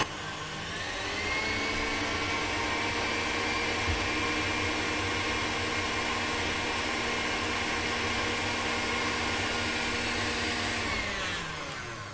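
Electric mixer whipping cake batter for an exotic fruit and raspberry Yule log, a steady loud whirring drone that runs unbroken for about eleven seconds before winding down, with no talking.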